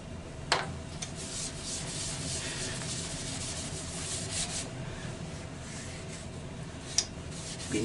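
Yorkshire grit abrasive is rubbed into a wooden bowl with a steady, close, soft scratchy friction sound, broken by a couple of brief sharp knocks.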